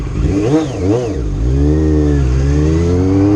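Motorcycle engine revving up and down through several rising and falling pitch sweeps, then holding a steady drone, loud and close on a ride.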